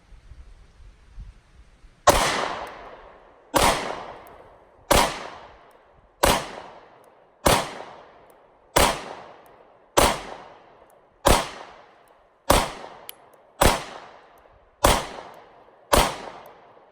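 Sig P365 pistol fired from a 12-round magazine, eleven sharp, loud shots at an even pace about one per second, each with a short ringing decay and no talk.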